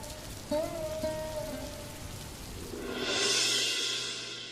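Steady rain falls on a surface and swells louder near the end, with a faint tone and a few soft knocks early on.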